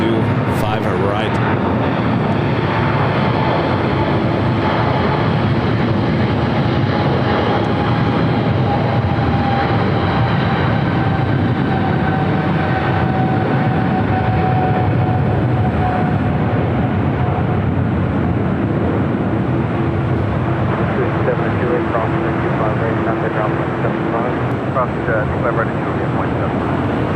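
A Boeing 777 airliner rolling down the runway at LAX, producing a loud, sustained jet-engine roar with a steady whine that holds close and constant, while a commentator speaks over it.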